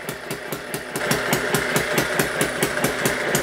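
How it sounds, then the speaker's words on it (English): Hit-and-miss engine driving an electric generator, thumping in a fast, steady run of regular firing beats with a clanking mechanical rhythm, close and moderately loud. "the Hit and Miss engine obviously doesn't have any trouble with this whatsoever"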